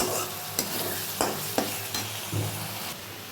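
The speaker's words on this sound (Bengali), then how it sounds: "এখানে মাছের মশলা কষানো হচ্ছে, সর্ষে পোস্ত বাটা" Bengali fish spice paste of ground mustard and poppy seed being sautéed in a pan, a continuous close sizzle broken by several sharp spatula scrapes and knocks against the pan at irregular intervals.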